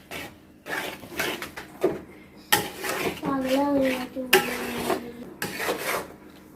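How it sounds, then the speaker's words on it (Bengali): A metal utensil stirs cheesy Maggi noodles in a pan, scraping and clinking against the pan in irregular bursts close by, with a voice speaking intermittently. "এবার এটাকে সুন্দর করে নাড়বেন"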